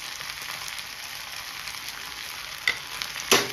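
Chopped spring onions sauté in a pan for chilli paneer with a steady, soft sizzle and a couple of faint stirring clicks near the end. There is no talking.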